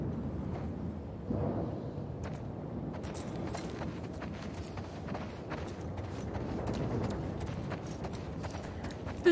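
Horse hooves clip-clop in a steady rhythm in the video game The Last of Us Part II, a continuous trotting patter with sharp clacks, fairly close and without voices.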